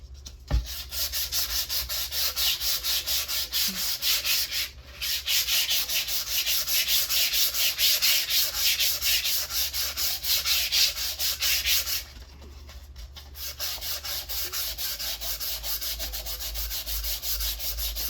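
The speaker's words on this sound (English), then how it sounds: "Letting the sandpaper do the work." Steady hand sanding with 320-grit sandpaper during a model rocket build, a loud, close, continuous rasping with brief pauses between passes, no voices.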